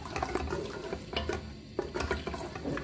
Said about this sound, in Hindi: इसमें हाफ गिलास जो है पानी का ऐड कर देते हैं